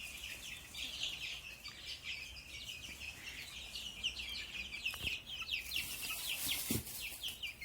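Many chicks peep in a constant high-pitched chorus, with occasional clucks mixed in, moderately faint and steady throughout.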